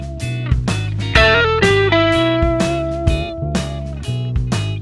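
Electric guitar plays a blues shuffle lick with distorted tone, loud and close, with phrased bends and held notes and no voices.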